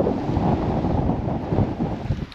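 Wind roars steadily across the microphone, a dense low rumble and buffeting with no voices.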